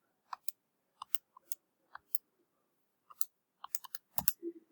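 Calculator buttons pressed one after another while numbers are typed in, giving sparse, crisp close clicks in small irregular bursts, with no talking.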